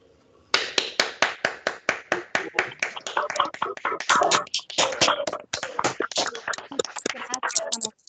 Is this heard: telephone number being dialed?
no